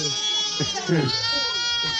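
A goat bleats close by on a farm in Cayo Santa Maria, Cuba, in a couple of short wavering cries over steady background noise, with people talking nearby.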